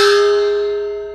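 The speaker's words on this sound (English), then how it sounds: "this is my swing gong, or opera gong" A swing gong, also called an opera gong, is struck once and rings with a clear, bright sustained pitch that slowly fades, heard alone and up close.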